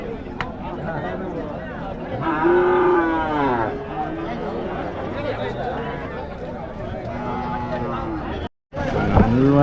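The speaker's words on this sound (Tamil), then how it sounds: "அருமையான மாடு பாருங்கள் ஒன்று காளை மாடு ஒன்று ஒரு பொட்டை மாடு ஒன்று கிடாரி ஒன்று எடுத்துகிட்டு வந்திருக்காங்க" Cattle at a village livestock market moo in several long, loud lowing calls, close by, over a busy background of crowd chatter and people talking.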